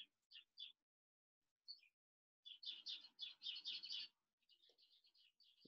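Birds sing just outside a home, bright chirps and tweets coming in short bursts with pauses between them, followed by a denser run of calls, fairly faint and with no talking.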